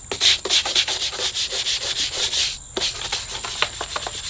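A brush scrubs a OneWheel electric skateboard in quick, close, rhythmic strokes, about a dozen rasping passes with a brief pause midway, loud and without any talk.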